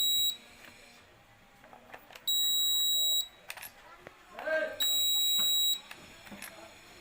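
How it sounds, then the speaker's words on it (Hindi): A multimeter on continuity test against an induction cooktop circuit board gives two long steady electronic beeps, close and loud, separated by clicks and handling noise. "बीप का आवाज़ आ रहा है।"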